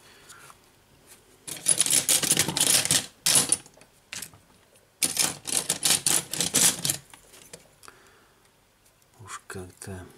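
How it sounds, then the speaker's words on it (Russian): Kapton tape is pulled and pressed over the front camera connector of a Motorola Moto G XT1032 phone under repair, giving bursts of crackly rustling with short pauses between them and a few faint clicks at the end. "Заклеивать будем разъем передней камеры каптоновым скотчем на всякий случай."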